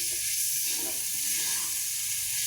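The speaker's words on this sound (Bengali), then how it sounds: "আসলে ভুড়ি ভাজি করলাম কি না বোঝাই যাবে না।" Tripe frying in a karahi, a loud continuous sizzle and hiss close to the microphone with faint stirring movement, no voices.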